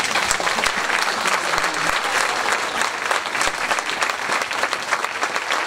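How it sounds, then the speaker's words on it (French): At a summer concert, an audience claps loudly and continuously, a dense, even roar of many hands with no pauses. "vous auriez pu applaudir plus fort quand même"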